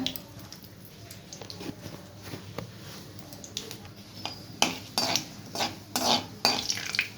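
A bay leaf fries in a pan for a prawn curry, heard as a soft sizzle under scraping strokes of a stirring utensil and light clinks against the pan that grow louder toward the end.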